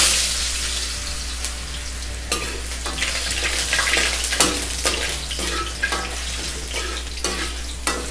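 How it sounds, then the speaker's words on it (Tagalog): Potatoes fry in hot oil in a pan, giving a steady, close sizzle with crackling bursts and a few sharper pops from spatula stirring, with no voices. "Iprito muna natin itong patatas."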